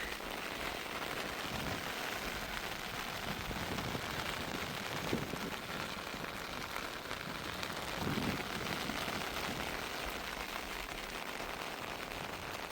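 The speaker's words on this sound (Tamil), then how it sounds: "மழை வந்து சரியான மழையும் மாதிரி இருக்குது" Heavy storm rain pouring down in Jaffna, a dense, continuous roar of drops on surfaces with gusty swells, loud and steady throughout with no voices.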